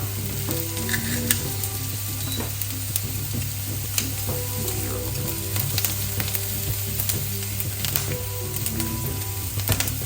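Onion and garlic sizzle and fry steadily in a pan, a loud continuous crackle with occasional stirring clinks, no voices over it.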